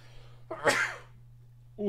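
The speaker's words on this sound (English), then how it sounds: "I have to sneeze." A single sharp sneeze bursts out close to the microphone after a quiet pause, with a faint steady hum underneath and a hint of a voice starting at the very end.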